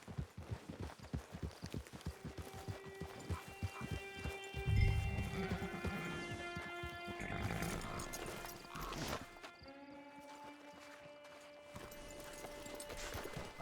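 Horse in Red Dead Online trots with rhythmic clip-clop hoofbeats, then lets out a loud whinny, followed by a second drawn-out neigh as the hooves slow, close by and without talk.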